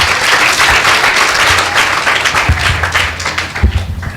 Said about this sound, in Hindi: मैं चाहूंगा आप जोरदार तालियां बजाएं परमेश्वर के नाम के लिए।